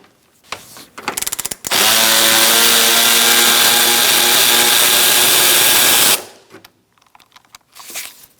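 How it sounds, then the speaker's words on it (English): A power tool whirs loose a bolt on a Honda CR-V, with short ratcheting bursts followed by a steady high-pitched whine for about four seconds, then quiet clicks and handling noises. "So now we're going to take this bolt out."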